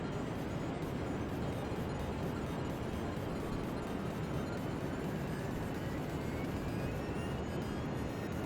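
Aircraft engine in Kerbal Space Program, a steady broadband roar with a faint rising whine as the autopilot drops the throttle, continuous and fairly quiet throughout.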